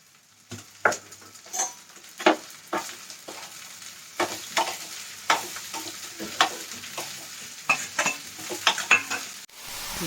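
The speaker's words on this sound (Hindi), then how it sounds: "प्याज मेरी बन गई है, फटाफट से भिंडी डालते हैं।" Okra fries with onions in a home kitchen pan, stirred with a utensil in irregular scraping strokes over a soft sizzle, close up and without talk.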